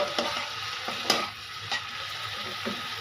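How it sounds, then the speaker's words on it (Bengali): Potatoes fry in a pan with a soft, steady sizzle, sounding close but fairly quiet, marked by a few faint clinks and scrapes and no voices. "আমার আলু ভাজা হচ্ছে, এখনো নাড়িনি।"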